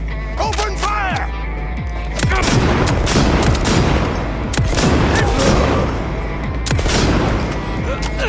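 Rapid bursts of gunfire from an assault rifle during a video game boss fight, dense and continuous over a steady low rumble, with brief shouted voices early on.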